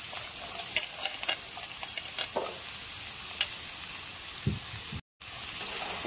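Cut eggplant and potato pieces frying in hot oil with black cumin, a steady close sizzle with scattered pops and the scrape of stirring, briefly cut to silence near the end.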